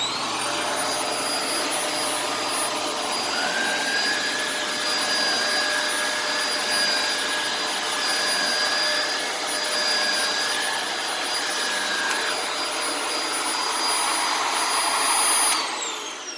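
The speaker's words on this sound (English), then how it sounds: "this little Hoover" A small Hoover vacuum cleaner runs steadily with a loud, even whine that holds for the whole stretch, and no voices are heard over it.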